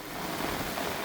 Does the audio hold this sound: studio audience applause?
no